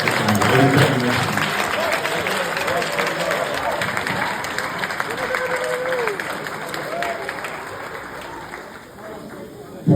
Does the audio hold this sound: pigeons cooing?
no